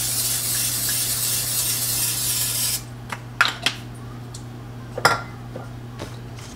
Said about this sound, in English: I'm just going to use this butter spray.